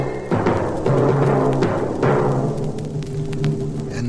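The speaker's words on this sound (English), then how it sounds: "And when the hunters shoot their guns, that's the kettle drums." Orchestral kettle drums standing in for the hunters' gunshots in Peter and the Wolf: booming timpani strikes at about 0.3, 0.9 and 2 seconds, each ringing out beneath sustained orchestral tones.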